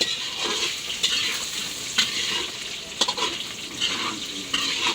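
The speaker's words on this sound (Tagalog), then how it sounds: "Nipiprito lang po niya yung squid ball." Squid balls fry with a steady, close sizzle in a hot pan while pancit gisado is being cooked, and a few sharp spatter pops break through at regular points.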